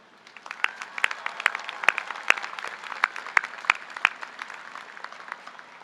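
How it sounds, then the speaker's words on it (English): A commencement audience applauds faculty and staff, a steady wash of clapping with sharp individual claps standing out, moderately loud and sustained throughout with no talk. "let's also cheer the dedicated and resourceful faculty and staff who have facilitated that opportunity for you"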